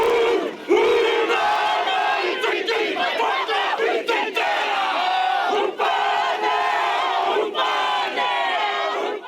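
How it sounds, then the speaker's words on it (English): Protest crowd performing a passionate haka in the rain outside the Prime Minister's office, loud massed voices chanting and shouting in rhythm with sharp accented cries, close and continuous throughout. "greeted with a passionate haka"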